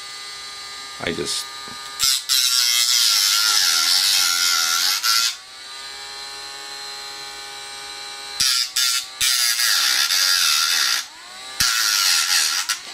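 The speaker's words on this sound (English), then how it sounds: "I took my handy little Dremel" A handheld Dremel rotary tool sands a pistol slide part in three high-pitched whining bursts of a few seconds each, separated by short pauses, with someone talking between and over them.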